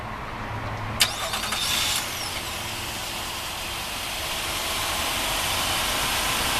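A 2014 Nissan Pathfinder Platinum 4WD starts by remote start with a brief crank and catch, then settles into a quiet, steady idle heard from outside the car.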